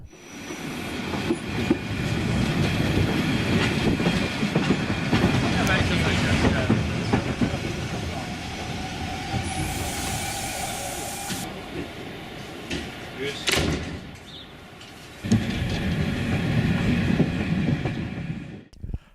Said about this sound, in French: La coupe est faite rapidement et nous partons sans tarder pour Lauterbrunnen, le terminus de notre train.